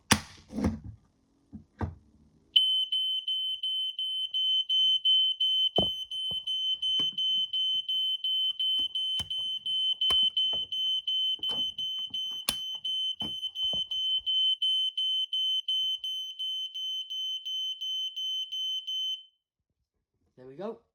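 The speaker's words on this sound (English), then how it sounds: "This now should set that alarm off." An Ei 166RF smoke detector, triggered from an Ei 407 call point, emits a loud, steady high-pitched alarm tone for around sixteen seconds before cutting off, with a few clicks and handling knocks before and during it.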